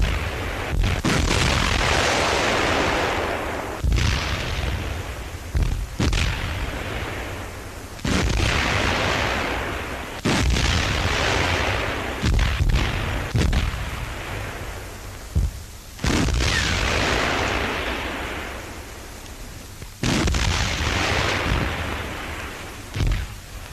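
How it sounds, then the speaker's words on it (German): Heavy artillery barrage shelling British positions in the North African desert, with a series of loud, booming blasts recurring every few seconds, each one rolling out into a long rumbling decay. "Schweres Trommelfeuer unserer Artillerie zerhämmert die britischen Stellungen."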